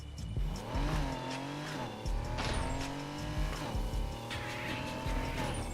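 A Volkswagen Beetle drag car in Need for Speed Heat launches hard, its engine climbing through rising revs with shifts and a brief squeal of tires, loud and close.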